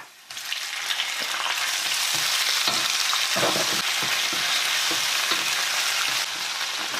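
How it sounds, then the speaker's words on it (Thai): Washed shrimp and squid hit a hot wok with a sudden loud burst of frying, a dense steady sizzle that continues close and strong with faint stirring scrapes beneath, no voices. "กุ้ง กับปลาหมึกที่ล้างไว้แล้วนะคะ ใส่ลงไปเลยค่ะ"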